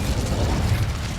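The Incendio fire spell in Hogwarts Legacy erupts as a dense, rumbling whoosh of flame, loud and sustained for a moment with a low roaring body.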